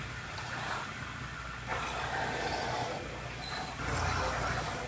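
Cavity wax hisses from a 360-degree spray nozzle into the body cavities of a Honda during radiator support replacement, coming in two long bursts separated by brief pauses over a low background hum.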